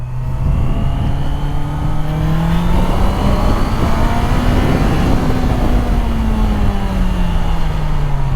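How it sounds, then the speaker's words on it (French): A Honda CBR650R four-cylinder sport motorcycle revs hard up close, its smooth, loud engine whine climbing and easing in pitch with the throttle over a constant road roar. "le bruit du 4 cylindres, là, dès qu'on dépasse les 6000, le bruit il change complètement"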